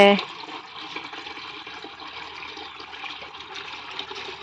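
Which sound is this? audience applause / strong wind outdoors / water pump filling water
water pump filling water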